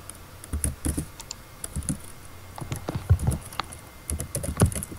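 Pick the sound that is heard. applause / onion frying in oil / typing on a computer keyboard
typing on a computer keyboard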